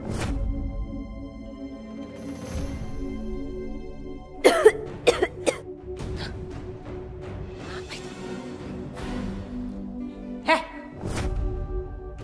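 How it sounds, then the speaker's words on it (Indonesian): Several sharp coughs in a quick cluster, then another cough a few seconds later, over a quiet background of soft music. "Kamu kenapa batuk-batuk, ha?"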